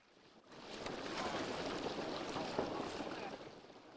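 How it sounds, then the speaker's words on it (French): Water laps softly against an engineless wooden boat on a lagoon off the Île des Pins, a faint, continuous wash with gentle swells and breezy hiss. "Le clapotis de l'eau, l'absence de moteur, le crissement du bois sur l'ensemble de l'embarcation."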